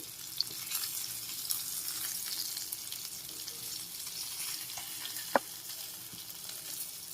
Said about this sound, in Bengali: তারপরে আরও একটু এপাশ ওপাশ করে ঘুরিয়ে ফিরিয়ে আমি ভেজে নেব মাছগুলো